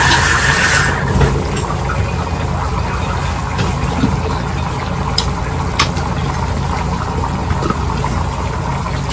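Water poured into a cup in a kitchen while cooking birria, a steady filling trickle under a low background hum, fairly close and continuous, with no one talking.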